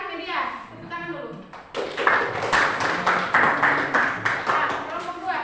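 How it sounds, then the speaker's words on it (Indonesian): A classroom group claps for another group, a burst of many hands clapping in a quick steady rhythm that follows a stretch of talk. "Tepuk tangan dulu."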